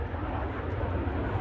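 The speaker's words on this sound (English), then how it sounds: "As the synchro pair come back to meet in the middle, complete the manoeuvre called the boomerang." Red Arrows display jets at an air show, a steady broad engine roar from aircraft flying past at a distance, with no voices.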